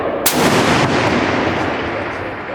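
A single rifle shot cracks sharply toward a target at a shooting event, the loud report followed by a long rolling echo that slowly fades.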